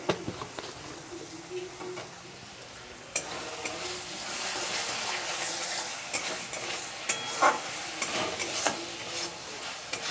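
Masala with sugar for chicken curry with potatoes fries in oil in a pan, sizzling softly and steadily with scraping stirs, growing louder and busier after a few seconds, with occasional spoon taps against the pan.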